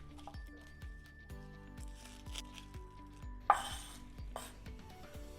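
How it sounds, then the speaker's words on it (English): A knife dices onion on a cutting board for chicken fajitas, a quiet run of regular, evenly spaced chops with a brief clattering knock partway through. "start dicing up some onion."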